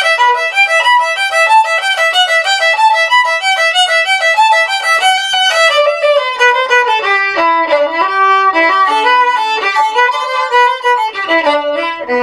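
Violin alone plays the opening eight measures of a song at a slow tempo, bright bowed notes moving steadily through a melodic line at a strong, even level.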